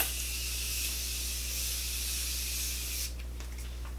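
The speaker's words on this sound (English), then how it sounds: "let me spray my face first." A continuous fine hissing spray of Morphe makeup setting spray misted onto a face, lasting about three seconds, close up over a low background hum, then stopping abruptly.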